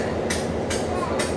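An excursion train on the Shamokin Valley Lines rolls along the rails with a low rumble. Rhythmic clicks from the wheels crossing rail joints recur about every half second.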